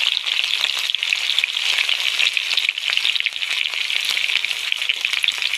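Garlic and ginger frying in hot oil as a tempering for a dhaba-style paneer curry, with dry spices already in the pan: a steady, close, crackling sizzle throughout with no talk.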